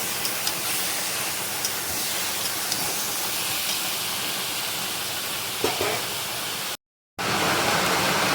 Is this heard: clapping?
no